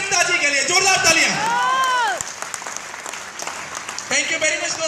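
Applause from an audience at a motivational business event, a dense burst of clapping that carries on steadily for a few seconds, with a voice and crowd chatter rising over it before it fades and speech resumes.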